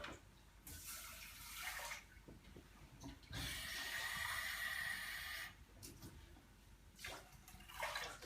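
Water poured into a cooking pot holding a cup of rice, several separate bursts of running, splashing liquid with short pauses between, fairly quiet and close, with no talking.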